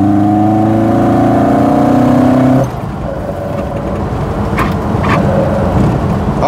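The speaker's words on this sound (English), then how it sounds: "that induction noise makes it sound like a full-blown rally car" A loud Fiat 131 Mirafiori Sport engine on twin Dell'Orto carburettors roars with a deep, steady induction drone that drops off abruptly, followed by a quieter rumble with a few faint clicks.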